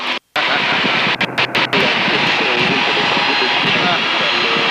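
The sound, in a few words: Pitts S2C aerobatic plane engine during a barrel roll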